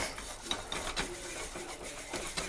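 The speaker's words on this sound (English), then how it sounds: "you just want to keep stirring until your cheese is melted" Spoon scraping and rubbing steadily through thick homemade jalapeno cheese sauce as the cheese melts, a soft continuous rasping with small repeated strokes, close and fairly quiet.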